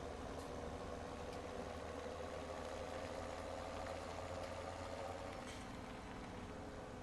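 Tractor engine idling in Farming Simulator 17, a steady low rumbling drone with a constant hum that continues evenly throughout, no voices over it.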